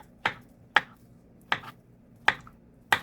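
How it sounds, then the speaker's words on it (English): A knife slices through a very ripe plantain, cutting it into smaller pieces with five crisp, separate cuts at uneven intervals, close and fairly quiet, with no speech. "So let me cut the plantain now into smaller pieces so it can easily cook."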